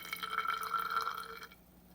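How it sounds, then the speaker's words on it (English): Vinegar pours into a graduated cylinder for about a second and a half, a close, bubbling liquid gurgle that stops abruptly, heard without talk. "So I just want to pour some vinegar in here in my cylinder."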